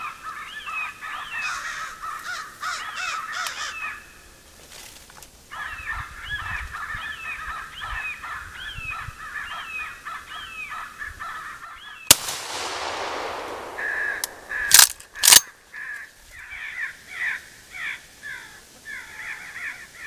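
Crows cawing during a Florida crow hunt, repeated harsh caws in rhythmic series from several birds, some near and some farther off, broken by a few sharp loud bangs near the end.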